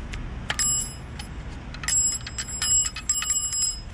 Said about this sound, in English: It's like a legit elevator bell.